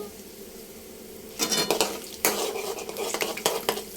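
Curry leaves and seeds fry in hot oil in a pan, with a quiet start giving way at about a second and a half to crackling sizzle and repeated scraping stirs against the metal.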